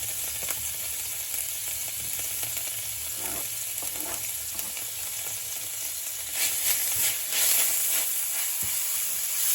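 Red and white onions with a sprig of thyme sizzle in melted butter in a pan, a constant close frying hiss with occasional stirring scrapes that swell louder toward the end.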